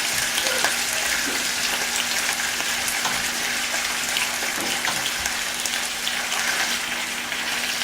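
Pork pieces for a stew sizzle steadily in hot oil in a pot over a low flame, the excess water in the oil giving a continuous close crackle with occasional pops.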